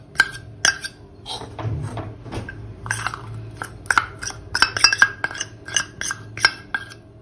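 Wheat flour roasting in ghee is stirred around a pan, with irregular scrapes and metallic clinks of the spoon against the pan over a quiet background.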